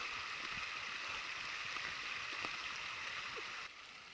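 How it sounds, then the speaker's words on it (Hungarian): A gentle mountain stream in the Bihor Mountains, Padiș area, Romania, flows steadily in a soft, continuous hiss, quiet and even, fading slightly at the end. "Még tovább csendesedett a patak."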